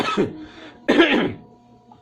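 Two separate coughs from one nearby person, the first short and the second fuller and harsher, followed by quiet room tone.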